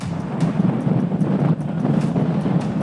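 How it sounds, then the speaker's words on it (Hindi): Strong stormy wind with blowing dust at the seashore in Karachi, a steady, loud rumbling roar battering the microphone without pause. "बहुत तूफानी हवाएं चल रही हैं, आंखें भी नहीं खुली जा रही।"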